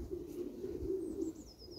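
Soft, low pigeon cooing murmurs steadily, with a faint high chirp drifting in near the end.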